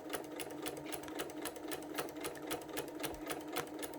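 A sewing machine with a walking foot quilting through fabric at slow speed, a steady, even run of rapid needle strokes up close, continuous and alone without talk.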